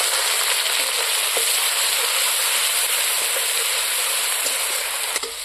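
Onion paste frying in hot oil for a pork curry, after bay leaves and chopped onion have browned in the pan. A steady, close sizzle runs the whole time, with a few small pops and no talking.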